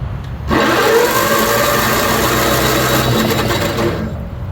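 An old tractor engine, with its battery wired straight to the starter, bursts into a loud, steady mechanical roar that holds for about four seconds before cutting off.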